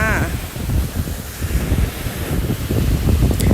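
Sea waves wash onto the white-sand beach at Hat Sai Kaeo, Sattahip, a soft rolling surge muddied by gusty wind buffeting the microphone.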